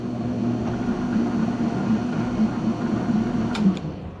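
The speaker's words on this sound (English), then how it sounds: "that's 2 passes" Knurling tool rolling passes along a workpiece on a lathe, a steady loud machine drone with a rumbling low hum and a faint brief scrape near the end, no talk.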